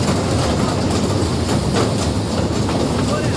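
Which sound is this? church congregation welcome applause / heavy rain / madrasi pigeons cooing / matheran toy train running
matheran toy train running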